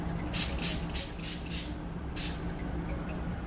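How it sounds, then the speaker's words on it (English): Makeup setting spray hisses from a bottle in several short bursts, a few quick close sprays followed by one more after a brief pause. "I'm just going to use some setting spray."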